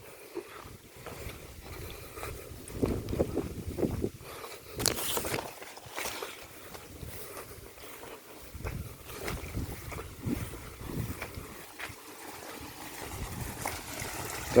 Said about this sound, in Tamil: தண்ணி தென்னை மரத்துக்கு தண்ணி பாய்ஞ்சிட்டு இருக்குதுங்க.